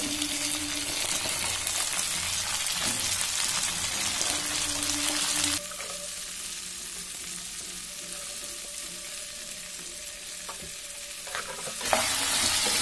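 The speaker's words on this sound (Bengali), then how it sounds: "পেঁয়াজ কলিগুলোকে বেশ করে ভেজে নিতে হবে" Spring onion stalks fry in mustard oil for a tangra fish dish, giving a steady, close sizzle with scraping stir sounds throughout and no talking.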